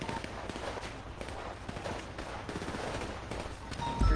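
Video game gunfire, a run of quick sharp shots and bursts over steady background noise, moderately close, with a louder hit at the very end.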